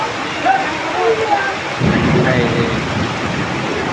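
Heavy rain hisses steadily through a thunderstorm, with a deep rumble of thunder rolling in midway and a voice talking over the downpour.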